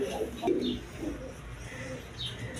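A pair of Denis pigeons, male and female, in a large cage, giving soft low coos over a faint background hum.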